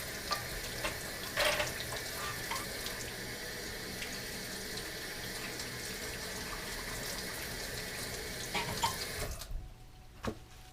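Tap water runs steadily over a jar lid being rinsed at a sink, a close, even hiss with small splashes and clinks, cutting off near the end.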